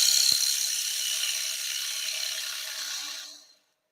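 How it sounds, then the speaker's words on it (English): A wood lathe turning tool takes a light, smoother cut at a slow feed on a five-sided dish, giving a steady high whirring hiss that holds evenly for about three seconds before cutting off. "So I do a nice smoother cut. We'll get a slower feed rate with my tool."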